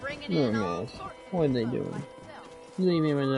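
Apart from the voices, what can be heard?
No everyday noises stand out.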